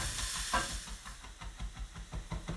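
Mushrooms sautéing with salt and pepper in a pan, a close, steady sizzle with soft rhythmic scrapes of stirring and no speech.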